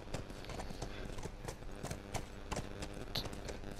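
Steady clip-clop of horse hooves at a walking pace in the video game The Last of Us, fairly close, with a faint background hum and no talking.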